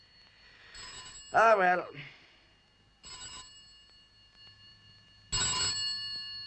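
An old-fashioned telephone bell rings in short bursts separated by pauses, loud and close, with someone speaking briefly in between the rings.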